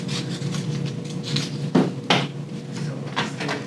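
Cardboard being cut down to fit inside a box, a steady scraping rub close by, with two sharper crunching cuts midway and no talking.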